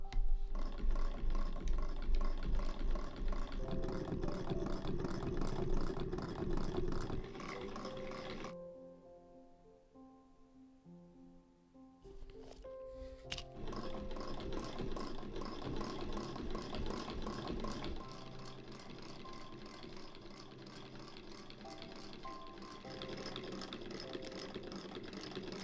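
Sewing machine stitching fabric with heavy thread, a rapid mechanical whirring stitch that runs steadily, cuts out briefly for a few seconds of near quiet, then resumes at a steady pace.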